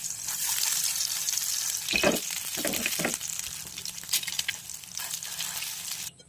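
Continuous crackling sizzle of a homemade malunggay hotdog frying in hot oil in a pan, close up, with a few louder pops and stirring scrapes.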